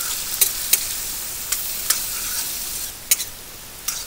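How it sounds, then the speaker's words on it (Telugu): Dried red chillies, curry leaves and soaked chana dal frying in oil for lemon rice, a steady hissing sizzle with several quick spatula scrapes, close, no talk. "ఎండుమిరపకాయలు, అలాగే నానబెట్టుకున్న పచ్చెనపప్పు కూడా వేసుకుందాం. ఇదంతా బాగా 4-5 నిమిషాల పాటు వేయించుకోవాలండి."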